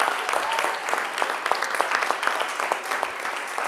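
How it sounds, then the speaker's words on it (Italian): A crowd applauds Roberto at a gathering, with steady, dense clapping from many hands that holds at an even, fairly loud level for the whole stretch. "Facciamo un bel applauso a Roberto."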